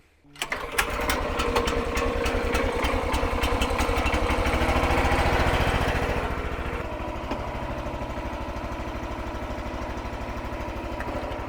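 A small engine on a firewood log splitter runs steadily close by, a loud rattling drone that eases to a lower, even idle partway through.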